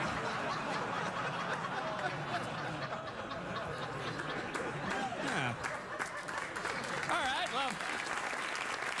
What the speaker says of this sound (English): Weird thing to applaud.